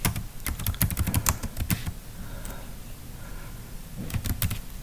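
Fingers tap out a short phrase on a computer keyboard, a quick burst of close, crisp keystrokes, a sparse pause, then a few more clicks near the end.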